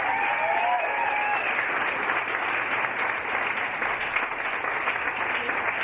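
Audience applause at a Braille Trail book launch, steady sustained clapping from a full room, loud and continuous throughout with a brief tonal whistle near the start.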